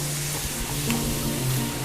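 Onions and celery sizzle steadily in a hot pan, a soft continuous frying hiss with a faint stir partway through, moderately close and without talk.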